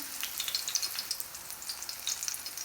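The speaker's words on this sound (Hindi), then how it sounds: "लो रखना है, हाई फ्लेम पर हमने नहीं फ्राई करना चपली कबाबों को" Chapli kababs fry in oil in a pan over a low flame, giving a steady, close, crackling sizzle with fine pops throughout and no voices.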